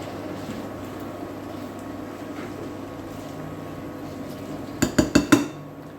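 Roughly chopped vegetables for a homemade curry base sauce rest in a pot under a low steady background hum, then a spoon stirs them, a quick run of four loud clinks and scrapes against the pot near the end.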